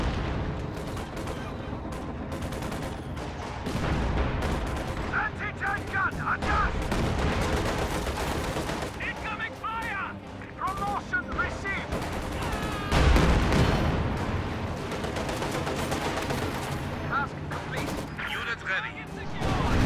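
Dense battle din from a World War II strategy game: rapid gunfire and machine-gun bursts mixed with mortar blasts and dive-bomber barrages, loud and continuous with heavy crashing impacts throughout.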